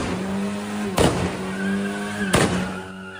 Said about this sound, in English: They were making fake gunshots with this car.